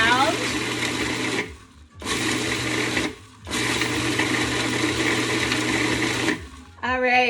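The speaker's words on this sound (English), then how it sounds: "Getting the dates so they're really finely ground." A food processor grinds dates finely, a loud whirring motor running in three bursts separated by short pauses, with a voice talking over it.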